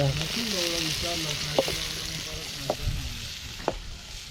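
Onion frying in hot oil for a fish curry at an outdoor forest cookout, a continuous close sizzle with a few sharp clacks of a spoon on the pan and faint talk underneath.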